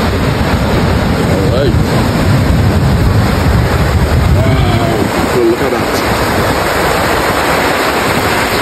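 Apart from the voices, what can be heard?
ocean waves breaking at Maracas Bay beach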